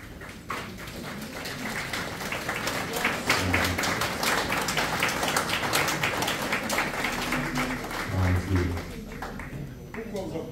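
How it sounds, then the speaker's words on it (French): A church congregation claps after a prayer: loose, irregular hand claps run throughout, mixed with voices talking over them at moderate distance. "Pourquoi vous applaudissez?"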